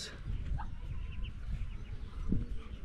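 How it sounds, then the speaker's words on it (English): Ducks kept in a small backyard enclosure make low, scattered quacks and murmurs at close range, with a brief louder call near the end over faint background rustle. "These are ducks."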